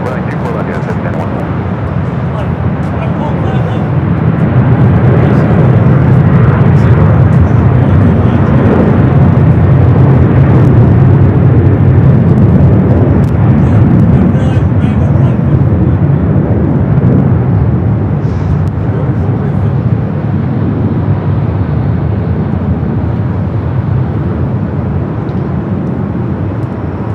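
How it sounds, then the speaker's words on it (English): An Evair Cargo Boeing 777 freighter lands at LAX. Its heavy engine roar swells, holds loud and even, then eases slightly, with voices heard over it. "That Evair Cargo 777 freighter just touching down at 25 left"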